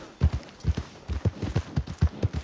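Horse hooves galloping in Red Dead Redemption 2, a quick, steady rhythm of close, thudding beats running continuously across the short stretch.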